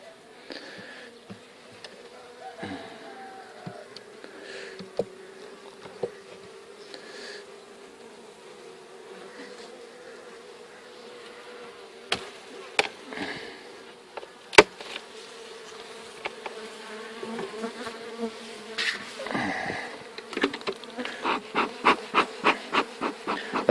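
Honey bees buzz steadily at a hive with a high bottom, a close, continuous drone broken by knocks and clatter of hive parts being handled, growing busier toward the end.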